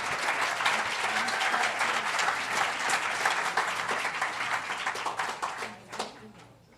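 Sustained applause from a symposium audience, dense and fairly distant, with the clapping tapering off into a few scattered claps at the end and faint talk underneath.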